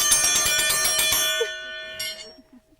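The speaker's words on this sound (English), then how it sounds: "So these bells in the trees" A hand bell hanging in the trees on a farm rings rapidly with bright metallic clangs for about a second, then its tone rings out and fades, followed by a single faint strike.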